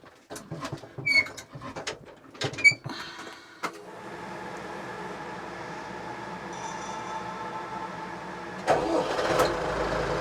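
Clicks and knocks, then a new Skaut TE-504C tractor's engine cranks and catches, settling into a steady idle close by, with a brief louder surge near the end.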